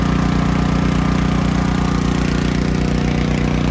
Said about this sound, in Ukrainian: зараз агрегат працює, працює агрегат від генератора